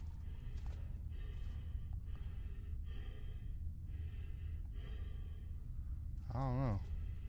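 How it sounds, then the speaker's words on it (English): In the body-cam horror game Deppart Prototype, low, rhythmic heavy breathing repeats in slow cycles under quiet ambience, ending in a sharper, wavering rasp. "What's breathing?"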